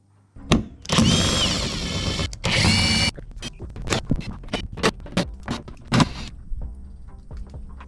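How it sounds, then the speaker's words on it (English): Power drill spinning out Torx bolts on a Jeep Gladiator tailgate panel: a long whirring run, another sustained burst, then a string of short, close trigger pulses with clicks between them. "remove the 8 torque bolts on the lower panel and the 2 torque bolts on the upper panel"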